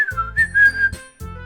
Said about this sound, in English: The Sayori chibi is whistling.